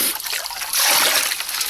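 Water is drawn up through a hole cut in winter ice, giving close trickling and splashing that swells into a louder, sloshing pour halfway through.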